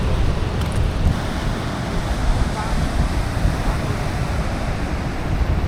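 Sea waves surge and splash upward at Bamangad point on Guhagar beach, a steady broad rush of surf with wind buffeting the microphone, continuous and fairly loud throughout with no voices.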